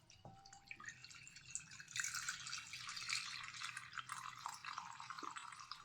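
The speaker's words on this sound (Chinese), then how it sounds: "然后加水开始清洗花椒" Sichuan peppercorns being rinsed in water in a kitchen: a steady, close wash of splashing and dripping that swells after the first second and continues without pause, with no voices.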